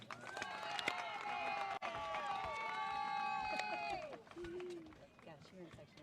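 A small group of family members cheers and whoops loudly for a graduate during a high school graduation ceremony, with several high, sustained yells over crowd noise and a voice speaking near the end.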